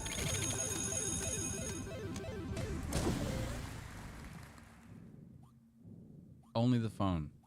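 A phone rings in the CloverPit video game among layered game sounds and music, loud and cluttered, then fades to quiet before brief bursts of tonal sound near the end.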